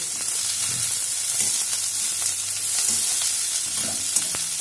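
Chili paneer frying in a hot pan with chopped garlic and chili, a continuous loud sizzle with occasional soft scrapes and knocks of stirring throughout, close and without talk.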